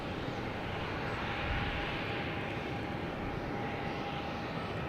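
An Airbus A320neo airliner passes near Logan airport with a loud, steady engine roar that holds evenly from start to finish, and a faint whine runs through it.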